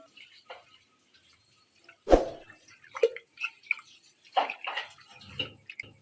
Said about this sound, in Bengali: প্রেসারের মধ্যে পানি দিলাম